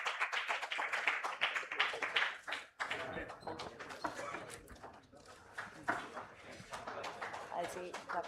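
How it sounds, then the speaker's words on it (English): Applause from the audience at a live Hypertension Day event, a steady patter of clapping hands running throughout, briefly dipping before resuming, with voices talking underneath. "Can we have a big round of applause, please?"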